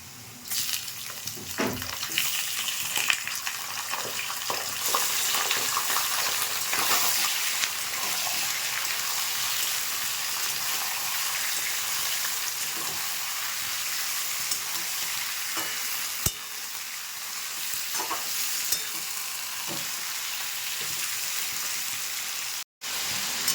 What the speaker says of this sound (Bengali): মাংসটা দিয়ে কিছুক্ষণ আমি একটু ভেজে নিচ্ছি মাংসটাকে।